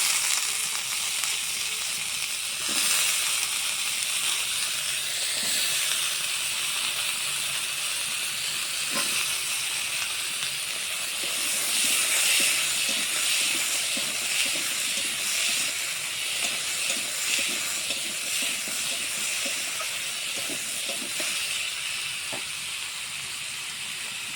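Chopped potatoes hit hot oil in a pan for a prawn curry and give off a loud, continuous hiss and sizzle with faint crackles. No voices are heard over the frying.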